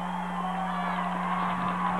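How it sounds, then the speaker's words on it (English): Spectators roar and cheer through a continuous wash of crowd noise at a 1996 high school football game between John Glenn and Catholic Central, steady and moderately loud with no distinct voices standing out. "The crowd's getting into it."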